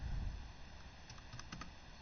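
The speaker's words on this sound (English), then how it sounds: "I don't know how my keyboard be typing some of this stuff." Typing on a computer keyboard, a short cluster of quiet key clicks over a low rumbling background hum, fairly faint and without speech.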